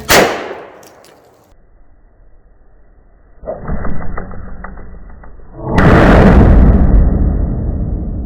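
An exploding arrow strikes a pickup truck's tailgate outdoors: an opening sharp bang decays, then comes a rattling mechanical clatter, and finally a loud, sustained roaring blast that fills the last few seconds.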